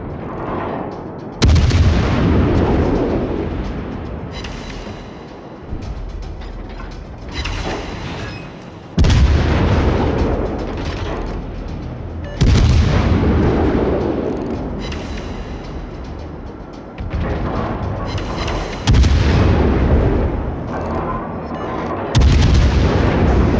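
Naval guns on a cruiser boom in a World of Warships clan battle: six or seven heavy, close salvos, each a sharp blast that rolls off into a long decaying rumble, spaced a few seconds apart.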